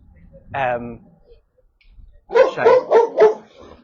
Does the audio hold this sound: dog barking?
yes